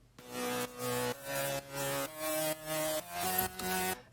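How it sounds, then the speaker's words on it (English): A bright saw lead synth in a dance drop moves through a rising and falling run of sustained notes, each about half a second long, with no talking over it. "this is basically a saw lead or a disc lead"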